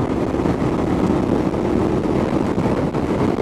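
A 2016 Indian Scout Sixty motorcycle accelerates hard at highway speed, its engine roar buried in a loud, steady rush of wind noise that holds constant throughout with no voices.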